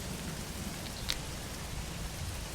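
Rainstorm in the Roblox game Pine Fall, with a steady, close hiss of rain falling on surfaces and one brief sharper drip sound near the middle. No one speaks.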